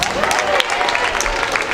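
A gym crowd applauds during the starting lineup introductions at a girls' high school basketball game, a steady wash of clapping with a voice briefly audible over it.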